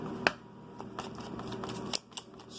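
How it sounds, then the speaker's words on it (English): Tarot deck being shuffled by hand, a string of quick papery riffles and soft slaps with a sharp snap near the start, close and fairly quiet, with no talking. "shuffle this deck."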